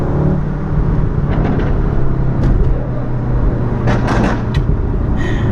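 A supercar engine roars loudly close by, a deep sustained rumble with rising revs and sharp crackles, its sound reflecting off a nearby building.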